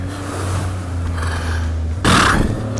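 A Kawasaki Mule Pro-FX EPS utility vehicle fitted with Rockland wheels drives in two-wheel drive, its engine droning steadily and close, with a louder rush of scraping or dirt spray near the end.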